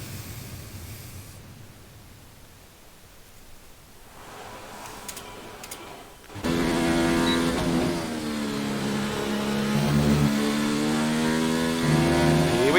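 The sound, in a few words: Mercedes F1 car engine driving at Silverstone, F1 2019 video game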